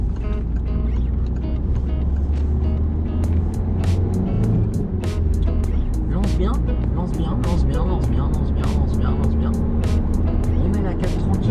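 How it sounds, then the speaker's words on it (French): A learner driver's car on a highway merge lane eases off the throttle and shifts into fourth gear, then accelerates again; steady engine and road drone fills the clip, with speech over it. "Je lâche l'accélérateur, je mets ma 4. Je réaccélère après."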